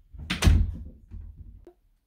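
A door swings and shuts with a solid thud followed by a softer rattle and a short latch click, close and loud in a quiet house.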